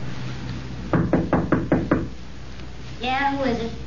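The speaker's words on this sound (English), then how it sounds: "Knock again." A crisp run of six even knocks on a door in an old radio crime drama, close and loud, followed by a voice answering from inside.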